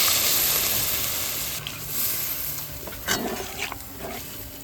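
Kundli, an old-style vegetarian spice mix, sizzles as it is sautéed in a pan. Water is then poured in, setting off sharper hissing bursts over the continuous close frying noise.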